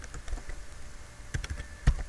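Quick, light keystrokes on a computer keyboard while entering HTML list items, a soft irregular patter up close with a couple of sharper taps near the end.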